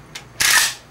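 An unloaded handgun dry-fires with a quick mechanical snap: a faint click followed by a sharper, louder click, close and alone in quiet surroundings.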